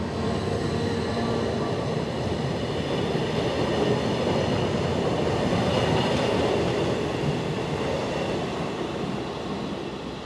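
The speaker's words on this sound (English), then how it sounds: "Schiers are worked by the 5-class ABE416 Allegra multiple units, which were constructed in 2012 and 2013 by Stadler." A Stadler ABE416 Allegra multiple unit, built 2012–2013, rolls past on the line near Schiers with a loud, steady rumble of wheels on rails and faint rhythmic clatter, swelling midway and easing slightly toward the end.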